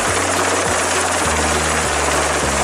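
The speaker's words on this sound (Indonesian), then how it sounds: "Wah, ada pesawat." An aircraft passes overhead with a loud, steady engine roar and rhythmic low thumping like rotor blades. The sound carries on unbroken throughout, with no voices over it.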